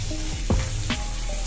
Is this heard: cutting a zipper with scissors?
no